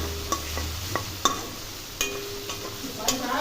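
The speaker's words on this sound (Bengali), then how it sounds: "ভালো করে ভেজে নেব।" Dough fried in a pan with egg, amchur powder and Kashmiri chilli powder, giving a low steady sizzle punctuated by sharp, evenly spaced spatula taps and scrapes, heard close with no voices.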